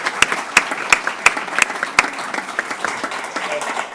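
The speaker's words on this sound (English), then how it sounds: "So if we can give her a round of applause," Students and parents at a school board meeting applaud a student, with a few sharp, loud claps standing out over a softer spread of clapping that thins toward the end.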